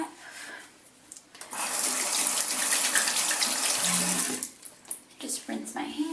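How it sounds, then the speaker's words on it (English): Tap water runs steadily into a sink as hands are rinsed, a loud broad gush lasting about three seconds, with quieter handling noises and small splashes before and after. "Just rinse my hands."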